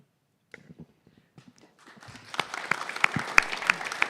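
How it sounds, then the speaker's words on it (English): Applause for the judges at a startup pitch event, scattered claps at first building into a fuller burst of clapping from the audience that grows louder toward the end. "I think we need a louder round of applause for our judges"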